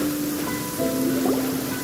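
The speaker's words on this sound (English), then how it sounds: "It's raining." Steady rain in the Genshin Impact game world, an even wash of patter with faint musical tones drifting underneath, no speech.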